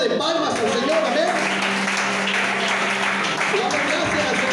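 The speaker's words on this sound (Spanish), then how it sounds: "denle una ofrenda de palmas al Señor" A church congregation at a vigil claps together in praise, a broad steady wash of applause under a voice speaking and music carrying through.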